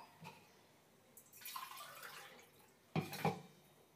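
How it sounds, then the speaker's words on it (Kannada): Water poured into rice in a pot for pulao, a soft pour and splash with a couple of louder sloshes near the end, quiet and close, with no talk. "ಅದಕ್ಕೆ 4 ಲೋಟ ನೀರನ್ನ ಹಾಕ್ತಾಯಿದ್ದೀನಿ"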